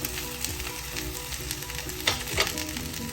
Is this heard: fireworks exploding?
no